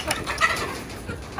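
A chicken clucks briefly in a yard with pigeons nearby, giving a few short, close clucks over faint background noise.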